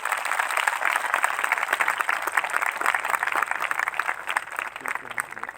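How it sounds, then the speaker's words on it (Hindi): A congregation at a Christian gathering in Mumbai applauds loudly and steadily for Lord Jesus, a dense wash of clapping that holds for several seconds without pause. "आइए एक जोरदार ताली प्रभु यीशु के लिए"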